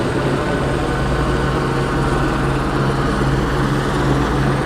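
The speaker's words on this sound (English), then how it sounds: "This is probably the FLIR copter right here." Police FLIR helicopter passing overhead at night in Los Angeles, a steady loud rotor and engine drone with a low throbbing hum, continuous and unbroken throughout.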